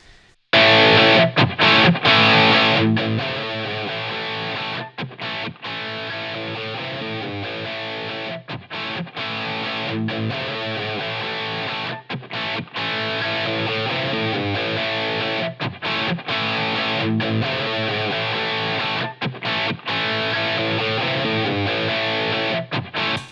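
Electric guitar runs through a Line 6 Helix LA Studio Compressor, modeled on the Teletronix LA2A, pushed into non-linear distortion, giving a dense, sustained, saturated tone that plays continuously with brief dips.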